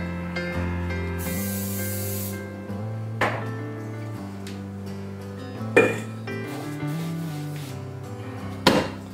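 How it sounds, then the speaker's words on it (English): Pam cooking spray is sprayed over a kitchen sink. A brief hissing burst sounds over steady background music, and a few sharp clinks and taps follow. "I'm going to use some Pam cooking spray."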